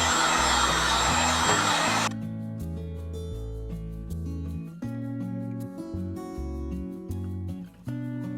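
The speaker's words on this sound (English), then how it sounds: "so I gave it a second coat and drying it with the heat gun" A heat gun dries a second coat of paint on a handmade Valentine's craft, blasting a loud, rushing airflow for about two seconds before cutting off, leaving soft background music playing.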